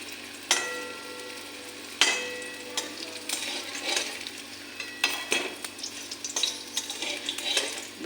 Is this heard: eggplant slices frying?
yes